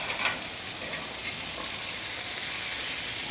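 Hotdog burgers topped with chorizo sizzle steadily on a hot surface as they are flipped, a close, even frying hiss with a few light scrapes.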